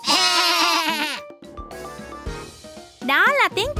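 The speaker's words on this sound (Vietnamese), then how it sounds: "Đó là tiếng kêu của bạn cừu với bộ lông xù." A sheep bleats loudly in wavering cries, broken by short stretches of talk, then bleats again at the end.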